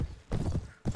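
Horse hooves clip-clop in quick bursts in the medieval combat video game Mount & Blade: Warband, loud and close with brief gaps between strides.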